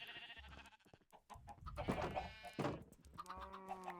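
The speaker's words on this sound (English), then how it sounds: "Look at all these sheep." Sheep in Minecraft bleat repeatedly and fairly close, a flock of blocky farm animals giving overlapping wavering calls on a hardcore survival farm, with no talk over them.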